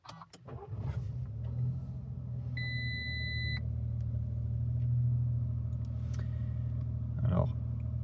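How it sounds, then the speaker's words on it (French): An Audi A1 Sportback 1.0 TFSI three-cylinder petrol starts with a quick crank, then settles into a steady low idle rumble, with a short electronic chime partway through and faint speech nearby. "démarrer ensemble ce véhicule."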